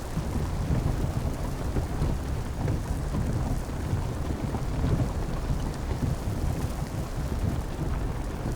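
Heavy rain falls steadily with a deep, continuous rumble of thunder underneath, loud and unbroken throughout, with no voices.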